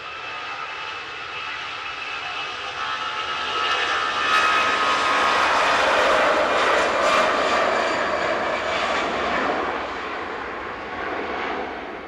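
An Aer Lingus Airbus A320 jet departs Manchester Airport with a broad engine roar that swells to a peak mid-clip and then slowly fades, with no talking.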